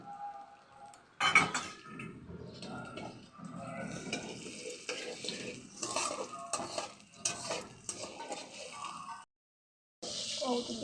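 Ginger paste, turmeric, cumin and coriander powders sautéed in a pot for mixed-vegetable khichuri, with soft sizzling, spoon scraping and clinks of utensils. The sounds run steadily and break off briefly near the end.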